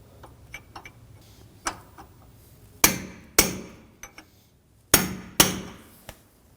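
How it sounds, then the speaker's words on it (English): A hammer peens an axle nut into a notch in the axle of a 2016-2022 Honda Pilot, with light taps followed by two pairs of sharp, loud metallic strikes and a few softer knocks between them. "We're going to just peen the nut down here so it can't back itself off."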